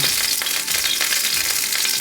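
Cheap frozen chicken breast and two beaten eggs fry in an oiled pan over low heat, giving a steady, even sizzle and crackle that stays close and continuous with no talk.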